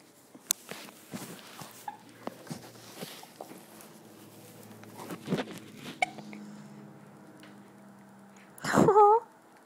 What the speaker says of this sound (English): she has the hiccups, and it's the cutest thing ever